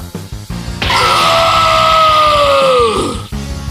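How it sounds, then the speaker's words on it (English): A single long, loud, blood-curdling scream held for over two seconds and falling in pitch at the end, from a figure struck by a concentrated destructive blast, heard up close over a rumbling background. "A blood-curdling scream is heard by none other than Vegito"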